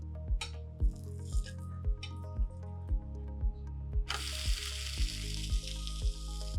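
Spinach and gram flour eggless omelette batter sizzles in a pan over medium heat, a soft frying hiss under a steady repeating thump, with a louder burst of hiss near the end.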